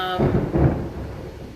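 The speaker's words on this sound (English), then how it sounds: "got a little bit of thunder here." A short, low rumble of thunder rolls in near a yoga class, fading into a quiet hiss after about a second, with a voice just ending at the start.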